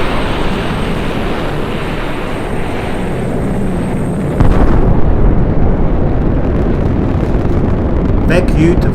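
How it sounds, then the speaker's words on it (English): Rocket liftoff in a video game: a loud, continuous broadband roar that swells abruptly partway through and keeps rumbling steadily to the end, like a sustained engine blast. "launch ignition sequence, 3, 2, 1, liftoff!"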